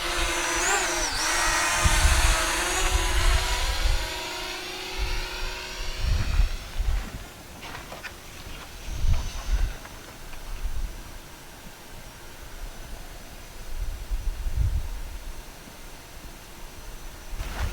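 Parrot Anafi drone flying about 100 feet out in an open field, a steady whirring drone with a high harmonic whine that fades after the first few seconds, leaving a low rumbling wind buffet with intermittent gusts.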